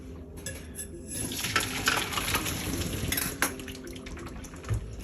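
Water pours off cooked sweet potatoes in a pot at close range, a sloshing, trickling drain with faint clinks of the pan, and no one speaking.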